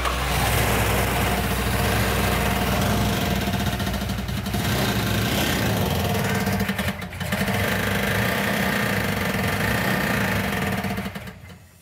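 A 1970s Plymouth Barracuda engine, freshly rebuilt but running with sand in it and a fuel supply problem, roars loud and close at a rough, steady idle, dips briefly midway, then cuts off at the end.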